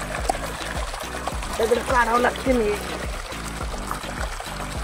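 Water pours from a pipeline onto an onion field, a continuous splashing flow heard up close beneath someone talking.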